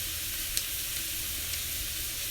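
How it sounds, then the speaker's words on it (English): Onions caramelizing in a pan give off a soft, steady sizzle, with a couple of faint clicks as they are turned, close and fairly quiet with no talk. "I got to turn them. They're caramelizing up well."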